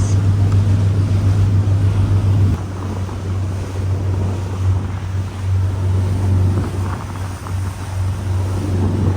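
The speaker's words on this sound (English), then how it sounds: "It's another boat coming back from the high seas." Low, steady engine drone of a boat on the Atlantic, loud and close, mixed with wind buffeting and the wash of water.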